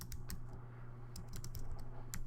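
Quick bursts of clicks from a computer keyboard as a note is typed in Evernote, crisp and close over a steady low hum, several rapid keystrokes in short clusters.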